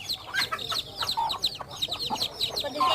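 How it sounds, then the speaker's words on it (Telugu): Kadaknath chicks cluck and peep in a steady busy chorus of short repeated calls, close by, with no talking over them. "కటకనాథ కోడి పిల్లలు చూడు ఎంత బాగున్నాయో"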